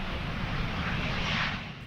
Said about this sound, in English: a Messerschmitt Me-262A jet fighter approached Lager-Lechfeld and wagged its wings in a sign of surrender